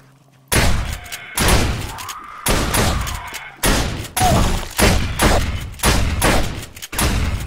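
About eight heavy, booming gunshots in the survival game 7 Days to Die fire at a steady pace close by. Each is a loud thump with a long echoing tail, separated by short gaps.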